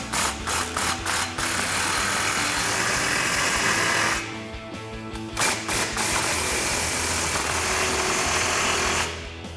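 An impact wrench with a 15mm socket tightens the 15mm clamp hardware on a Magnaflow Street Series dual exhaust under a Chevrolet Silverado 1500, sounding as loud, close rattling bursts with a brief pause partway through.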